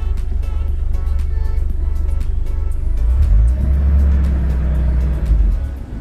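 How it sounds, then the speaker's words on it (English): A Toyota Supra engine idles loud and close with a steady low rumble, rising briefly toward the end. "All right, so now the car's idling fine."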